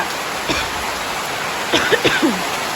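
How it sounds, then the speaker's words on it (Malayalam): Heavy rain driven by strong wind sweeps across an open field, making a steady, dense hiss throughout, with a few brief voice sounds partway through. "നല്ല കാറ്റും നല്ല മഴ കേട്ടോ നല്ല ശക്തിയില്ല മഴ"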